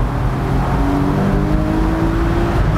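A Porsche Boxster engine revs hard and climbs through first and second gear, a loud, continuous rising engine note close to the listener, with shifting tones as the revs build.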